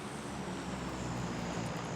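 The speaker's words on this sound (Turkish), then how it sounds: "İki tane uçak geçti" Airplanes passing overhead in the battle royale game PUBG, a steady broadband engine roar with a low drone, continuous and fairly loud throughout with no talk.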